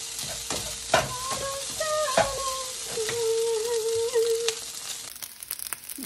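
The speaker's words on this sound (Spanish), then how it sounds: "Agregamos el arroz y movemos todo muy bien." Rice stirred into a beaten egg mixture in a hot pan, with steady sizzling and scraping strokes of a spoon, punctuated by several sharper knocks against the pan over a few seconds.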